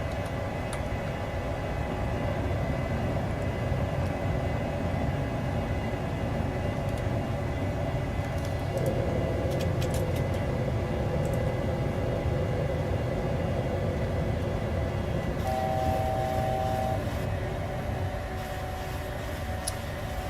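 A PMDG Boeing 737 taking off in Microsoft Flight Simulator 2020, a steady, loud jet engine roar with broadband rumble and faint cockpit tones, continuous throughout.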